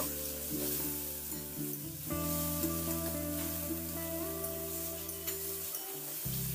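Pointed gourd and tomato sizzle and fry in a pan while being stirred, a steady close-up crackle with scraping stir sounds throughout, no voices.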